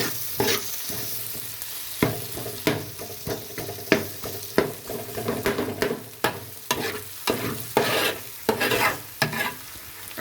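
Onions and tomato sautéing in a pan for homestyle chicken curry: a steady sizzle broken by repeated scraping stirs of a spoon, close and fairly loud, with no talk.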